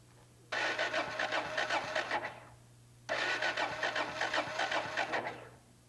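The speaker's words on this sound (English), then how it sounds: "crank the engine several times to clear any fuel held in the jets" Motorcycle engine on a multi-cylinder bike being cranked by the starter to clear fuel from the carburetor jets, two bursts of rapid rhythmic churning, each lasting about two and a half seconds, close and fairly loud over a steady low hum.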